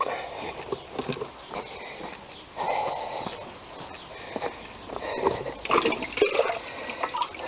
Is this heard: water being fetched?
yes